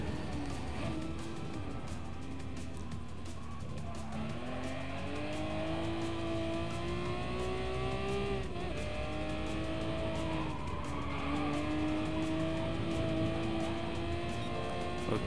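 Race car engine held at full throttle in Gran Turismo Sport, a steady, loud whine that slowly rises and dips in pitch, with faint tire noise beneath, heard continuously without breaks.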